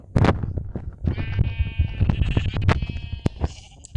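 Sheep in a video game bleat repeatedly in short, wavering, nasal cries, close and fairly loud, overlapping one another with a few clicks from gameplay mixed in.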